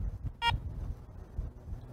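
A Garrett Ace 400 metal detector gives one short, clear electronic power-on beep over low background hum, then silence.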